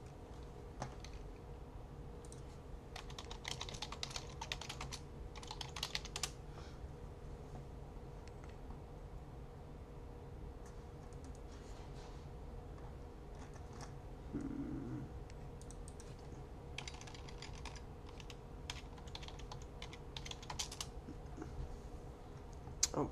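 Soft, irregular typing on a computer keyboard with scattered clicks in bursts, fairly faint over a steady low room hum, with no one speaking.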